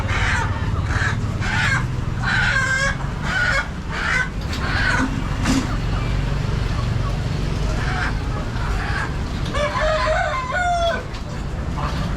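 Chickens cluck and squawk repeatedly in short bursts, with a rooster-like call and ducks and other birds mixed into a busy, noisy outdoor market background in Khlong Toei, Bangkok.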